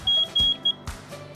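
Beeping buzzer from a sensor and transducer test rig running on a 5 volt DC supply, three short high beeps in quick succession, loud and close, followed by quieter knocks and clatter.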